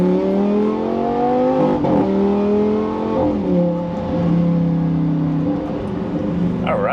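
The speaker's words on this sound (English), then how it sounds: "I'll let the car warm up and then double check the oil level." A Lamborghini Gallardo idles while warming up, a steady engine hum with smooth tonal pitch shifts as the revs drift, heard close and alone.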